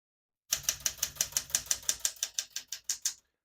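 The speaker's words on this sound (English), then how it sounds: "all the keys type nice and none of them skip or stick" A 1978 Smith-Corona Galaxie 12 portable typewriter clacks through about fifteen evenly spaced keystrokes, crisp and close, each a sharp metallic strike in a steady rhythm with no voices.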